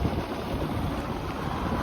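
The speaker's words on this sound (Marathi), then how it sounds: "तुम्ही बघू शकता धबधबा" Continuous broadband rush of a large waterfall at Dhodani, steady and loud throughout with wind buffeting the microphone.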